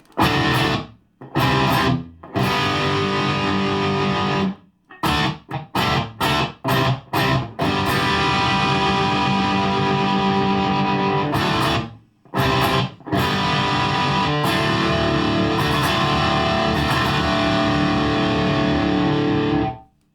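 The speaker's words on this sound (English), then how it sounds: "let's just boost the distortion up to the 9 o'clock mark" Heavily distorted electric guitar through a Boss Metal Core ML-2 pedal, distortion at the 9 o'clock mark, plays chugging chords in short bursts with brief gaps, then longer sustained ringing stretches, loud and saturated.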